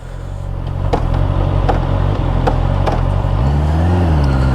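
A Honda CBR650R E-Clutch motorcycle pulls away in sixth gear with a low, labouring engine rumble and a few regular ticking clicks, before the engine tone lifts and wavers near the end; heard up close without speech.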